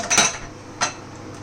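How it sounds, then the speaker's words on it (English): Two separate knife strokes cut through ingredients on a board while chicken biryani gravy is prepared, each one a brief, crisp close chop with a short pause between, no voices. "We will chop this."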